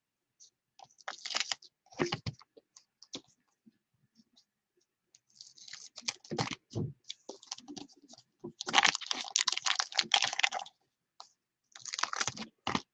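Scissors snip and crunch through a stiff baseball card pack in irregular bursts of crisp cutting clicks, close up, with short quiet gaps between.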